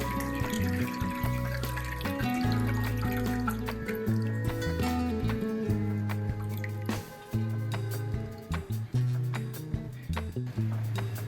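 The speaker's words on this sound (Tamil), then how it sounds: "புழிஞ்சு வச்ச தண்ணியை இதில் சேர்த்துக்கிறேன்" Squeezed-out water from green pea skins pours into a cooking pot, with close dripping, trickling and squishy wet sounds over a steady low hum, no voices.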